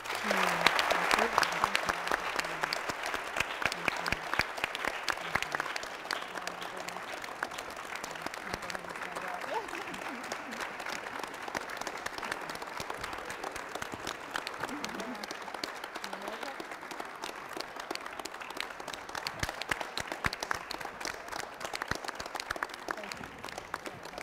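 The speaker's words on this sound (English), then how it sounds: "Please, one more round of applause for our speaker." Sustained applause from a college speaker-series audience at Gordon State College, dense clapping from a large crowd rolling on for over twenty seconds and slowly thinning, with faint talk underneath.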